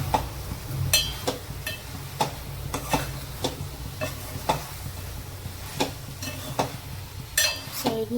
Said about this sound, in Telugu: సైడ్ నుంచి ఇలా కలుపుకోండి